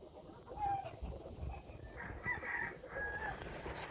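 Game hens in straw-lined brooding boxes cluck and fuss faintly at a distance, a few soft calls scattered over a low, noisy barn background.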